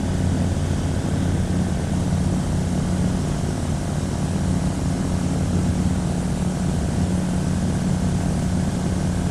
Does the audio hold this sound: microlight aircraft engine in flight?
yes